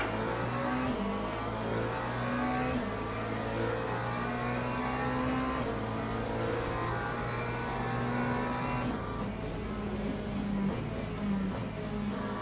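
GT3 race cars start at Laguna Seca in Le Mans Ultimate, a steady dense roar of several engines revving and accelerating together, with no pauses.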